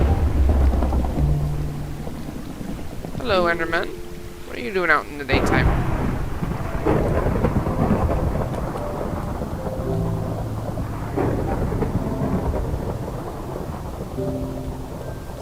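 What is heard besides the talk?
thunderstorm in the Minecraft video game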